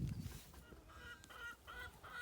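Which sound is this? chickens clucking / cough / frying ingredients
chickens clucking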